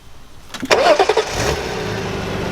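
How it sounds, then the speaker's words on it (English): A car engine with an exhaust leak cranks and catches, then settles into a rough, steady idle close by, with no talking. "Now the car doesn't sound terrible. It has a little leak, we think."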